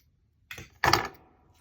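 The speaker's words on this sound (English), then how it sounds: "cut off a little tip of it." Scissors snip a small tip off a piece of paper during collage work, two short crisp cuts close to the microphone, the second louder, with a quiet surrounding.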